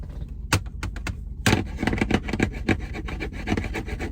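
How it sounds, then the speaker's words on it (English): Repeated rasping strokes of a blade being sharpened, scraping rhythmically over a steady low background hum. "That's something being sharpened."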